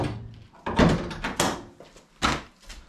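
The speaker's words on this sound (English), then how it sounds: "I think that's known as the fire extinguisher quick access flap." A car's fire extinguisher quick access flap, fitted near the bonnet of a project car, shuts with several close, dull thunks and clicks in a short uneven series.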